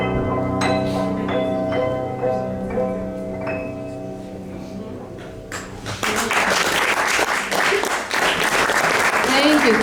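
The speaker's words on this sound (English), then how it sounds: "Love that applause." After about six seconds of sustained, held musical tones from a stage musical number, a loud burst of audience applause breaks out and fills the rest of the clip, dense and steady.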